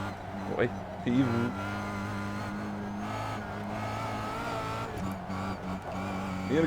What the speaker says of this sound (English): He's really pushing that car.